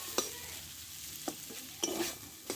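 Pumpkin being stirred and sautéed with chili powder in a pan, giving a faint, steady sizzle broken by four or five soft spatula scrapes spaced unevenly.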